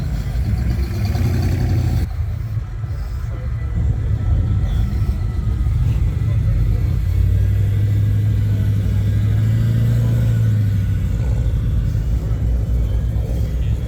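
A twin-turbo 4.8 LS engine in a postal mail truck idles and rumbles at a car event, a loud, close low drone that swells into a deeper steady note midway.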